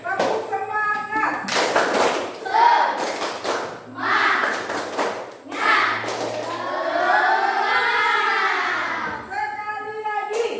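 A classroom performs a rhythmic 'tepuk semangat' routine, with bursts of group clapping landing in patterned beats between loud chanted and spoken voices. Close and lively, and the voices dominate much of the time.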